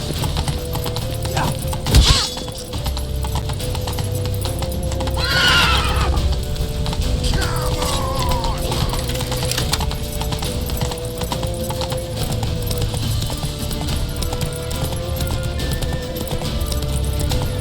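Horse hooves clip-clop steadily throughout with a couple of loud whinnies early on, over a busy rumbling game soundscape.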